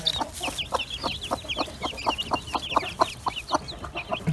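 A hen and her newly hatched chicks cluck and peep in a rapid, rhythmic series of short calls, with high chick cheeps scattered over the steady clucking, close and fairly loud.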